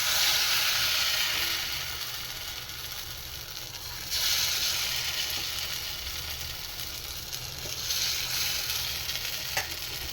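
Jowar flour uttapam batter fries in oil on a pan, giving a steady broad sizzle with occasional scraping stirs. The crackle swells twice as more oil or batter goes in.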